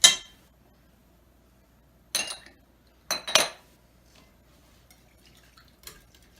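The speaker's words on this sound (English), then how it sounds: "if you keep stirring with the whisk, and as it warms up, you're going to emulsify that" Scattered clinks of a metal whisk against a bowl while stirring a lumpy, mayo-based Caesar dressing with anchovy paste, Worcestershire sauce and champagne vinegar; a few sharp taps separated by quiet gaps, close and fairly faint.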